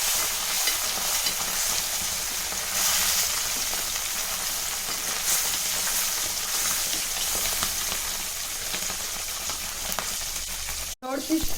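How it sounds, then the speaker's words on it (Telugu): A fish fries in oil with a continuous crackling sizzle, moderately quiet and steady throughout, with no talk and a brief clatter near the end. "థర్డ్ ఫిష్ ఫ్రై అవుతుంది"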